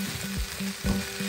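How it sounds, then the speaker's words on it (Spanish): Tomato with pepper and salt sizzles in a hot pan while being stirred, a steady close frying hiss broken by rhythmic scraping strokes about every third of a second. "nuestro tomate, pimienta y sal al gusto. Revolvemos todo."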